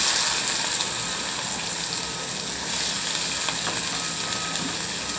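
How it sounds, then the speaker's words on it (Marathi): Plenty of chopped onion sizzling in hot oil in a kadhai for egg bhurji, a steady, close, bright frying hiss with faint scraping and no voices. "त्यानंतर त्यात चिरलेला भरपूर असा कांदा घालावा"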